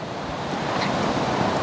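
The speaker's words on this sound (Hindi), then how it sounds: "यहाँ पे आप मेरे पीछे देख रहे होंगे कि कितना पानी बह रहा है" Floodwater rushes through a swollen river at Hanna Urak in Balochistan, near Quetta, as a steady, loud, broadband roar with some wind buffeting the microphone and no voices.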